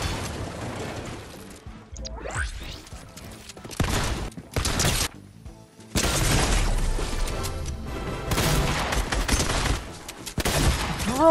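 Shotgun blasts and bursts of gunfire ring out in a Fortnite match, loud and close, in repeated clusters with crashing impacts between them.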